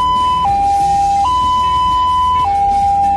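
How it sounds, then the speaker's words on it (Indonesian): A loud two-tone ambulance siren alternating between a high and a lower pitch in a steady hi-lo pattern, close by, with traffic rumble underneath. "saya akan memberitahukan jenis-jenis bunyi sirine pada ambulans"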